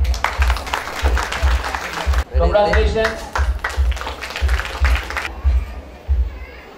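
Crowd applause at a live Telugu pageant event breaks out in repeated loud waves of clapping, with people speaking and calling out congratulations over it.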